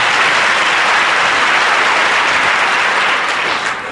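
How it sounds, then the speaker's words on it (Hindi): A large audience at a spiritual gathering held in a jail claps in loud, dense, sustained applause, a continuous wash of hands close by that tapers slightly at the very end. "होलसेल में बजा लो एक ताली"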